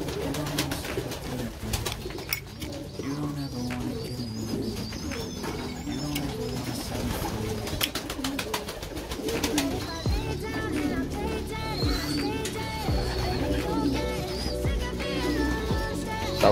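Racing pigeons coo steadily inside a loft, with overlapping soft throaty calls, a few chirps and wing flutters, close and continuous throughout.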